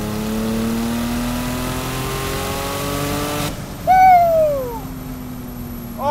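A 1,000 HP Porsche 911 Turbo engine revs hard under throttle, its pitch climbing steadily and loudly, then cutting off sharply before a brief high squeal.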